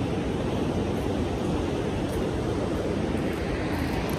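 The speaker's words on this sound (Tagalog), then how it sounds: "Hindi ko alam kung naririnig niyo yung tunog ng dam" Rushing water at a dam makes a constant, dense roar that stays loud and steady throughout, with no speech.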